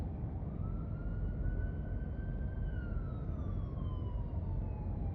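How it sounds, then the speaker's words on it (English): A fire truck siren passes outside, its wail rising and then slowly falling in pitch, fairly distant over a steady low background rumble, with no talking. "Uh-oh, here goes the fire truck."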